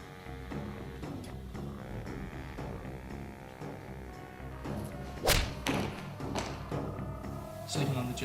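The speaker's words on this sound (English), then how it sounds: "I hit him with a haymaker to get his attention." A haymaker punch striking a person in a dramatized film fight scene, a sharp loud thump standing out once amid a continuous music and effects bed, followed by lighter knocks.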